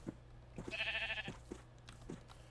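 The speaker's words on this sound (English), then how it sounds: "guiding the last of the sheep that I think I'll be getting back into the pen." A single Minecraft sheep bleats once, a short wavering cry over a quiet game background with faint footstep-like thuds around it.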